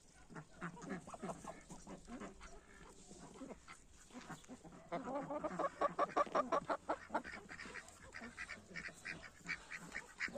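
Rouen ducks on a farm quack repeatedly at moderate distance, a busy overlapping chorus of calls that swells in the middle, with other poultry sounds mixed in.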